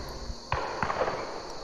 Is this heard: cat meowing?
no